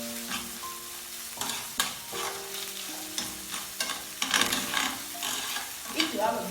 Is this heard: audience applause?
no